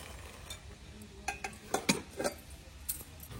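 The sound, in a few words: crushing jaggery and raw mango pieces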